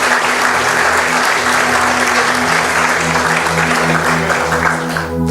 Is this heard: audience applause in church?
yes